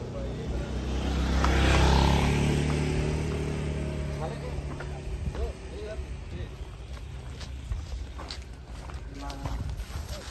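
A motorcycle swells as it passes nearby and fades away, with people talking and hoof-like clopping from large cattle led out in the background.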